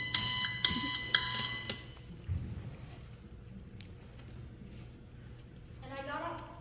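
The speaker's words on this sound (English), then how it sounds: "waking up to my alarm in a daze" Three loud bursts of a high, harmonic electronic alarm clock ringing in the first two seconds, then quiet room tone with a faint voice near the end.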